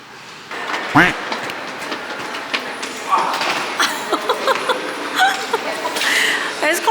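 Subway train in Toronto running on rails, with rumbling, clattering wheel noise, squeals and bumps of varying loudness; people talk and chuckle over it.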